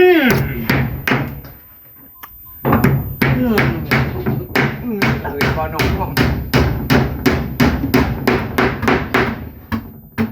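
Wooden boards for a house under construction are hammered with nails in a steady run of sharp, loud strikes, after a brief pause near the start, with someone talking now and then between blows.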